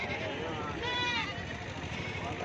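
Goats bleat at a busy livestock market in Gudur; one clear wavering bleat rises in the middle over a steady background of crowd chatter and people talking.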